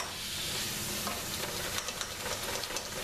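Queso dip ingredients brown in a pan with a constant close sizzle, broken by intermittent scraping and stirring strokes, fairly quiet and free of talk.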